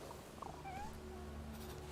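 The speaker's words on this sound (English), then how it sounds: "I hear kitty cat." A cat meows in The Thaumaturge, a short mid-pitched call rising briefly over a steady low game ambience and soft music, faint and slightly distant.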